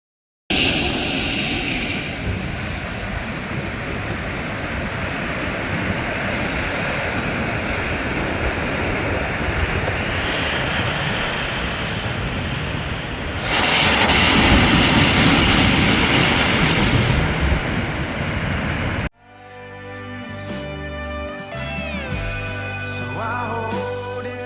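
At sea cliffs on a coast, a blowhole gives a sustained rushing roar that swells louder partway through, then gives way to music.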